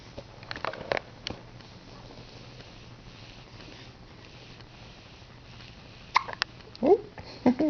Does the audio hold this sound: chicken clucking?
no